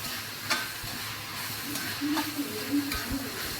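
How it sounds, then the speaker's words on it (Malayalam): Curry leaves sautéing in a pan for a Kerala-style beef curry, a steady soft sizzle with a few sharp clicks and scrapes of stirring, close and fairly quiet, with no talk over it. "കുറച്ച് കുറച്ച് വേപ്പലാണ് ഇനി കുറച്ച് നേരം വഴറ്റാം"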